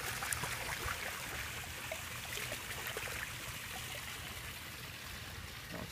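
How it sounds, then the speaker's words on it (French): Water running and trickling while a divided water lily plant is rinsed, a faint, continuous splashing stream with small drips, steady throughout and with no talk. "Je vais le rincer une dernière fois."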